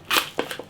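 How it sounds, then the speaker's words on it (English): Scissors cut open an American import Maruchan instant noodle packet, giving a short burst of crisp, close crinkling and snipping with a few quick plastic crackles after it. "This is an American import, so we need a pair of scissors, I think."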